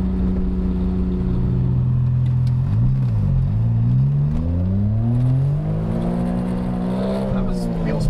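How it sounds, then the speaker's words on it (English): A Suzuki Cappuccino accelerates hard enough to spin its wheels, the engine note dipping and then climbing in a loud, close rising whine over a steady rumble. "That was wheel spin."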